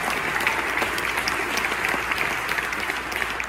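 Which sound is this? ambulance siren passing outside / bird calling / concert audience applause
concert audience applause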